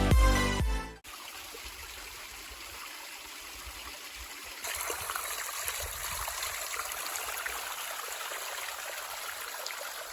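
Steady running water trickles and splashes down a hiking trail on the Appalachian Trail's Twins Range, a continuous gentle rush that grows slightly louder partway through, with no voices.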